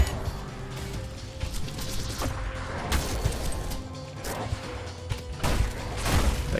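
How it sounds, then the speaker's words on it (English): Explosions and crashing impacts from the fast-paced shooter Ultrakill, loud and dense with repeated booming thuds and smashes piling over a continuous wash of game noise throughout. "Explosion on those guys."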